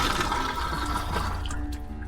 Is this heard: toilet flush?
yes